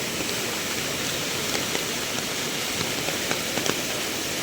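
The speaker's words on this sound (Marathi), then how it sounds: "पाणी एकदम फोर्सने चाललं आहे." A flooded river during heavy rain rushes forcefully, giving a loud, continuous broadband roar with no pauses and faint splashes scattered through it.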